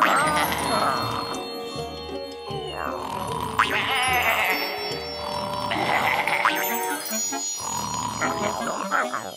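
Several sheep in a kitchen in a Garfield cartoon bleat repeatedly up close, their wavering cries overlapping amid a busy, cluttered mix of other noises.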